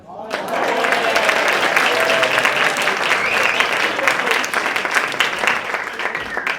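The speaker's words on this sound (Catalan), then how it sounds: "Un aplaudiment per nosaltres per fer l'obra en català." Sustained audience applause for performers at the close of a Catalan-language theatre play, dense steady clapping filling the room for several seconds with some crowd noise mixed in.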